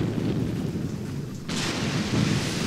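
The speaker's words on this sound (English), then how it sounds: "artillery is creeping towards the village" Artillery fire in the wartime tactics game Graviteam Tactics: Mius Front during a heavy rainstorm: a steady roar of rain with a deep rumbling shell burst, and a broader crash coming in halfway through.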